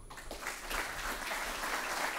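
An audience applauds the volunteers at the opening session of the EUROMED 2022 conference, a steady, dense patter of many hands clapping that holds at an even level throughout, with no talk over it.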